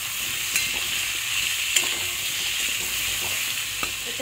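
Mixed vegetables, pumpkin among them, fry in a pan for a Bengali pui shak (Malabar spinach) chhechki. A steady broad sizzle runs throughout, with occasional soft scrapes and clicks as the spatula stirs, close and alone.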